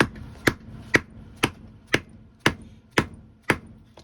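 A hammer strikes a LOTHAR BAT knife in a hard-use abuse test inside a hot shed, eight sharp, evenly spaced metallic blows about half a second apart, each ringing briefly before the next.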